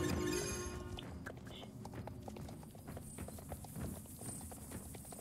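Horse hooves clip-clop in the Star Stable online riding game, a quick steady run of hoofbeats that follows a brief louder burst at the start, with a voice talking faintly underneath.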